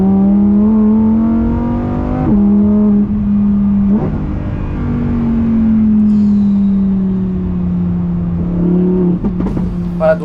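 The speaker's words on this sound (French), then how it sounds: "tout de suite quand vous vous remettez en sport, vous avez les retours à l'échappement" A Lamborghini Huracan Tecnica drones steadily in sport mode, with a loud engine note rising and falling through gear changes and a few crackling exhaust pops near the end, heard from inside the cabin.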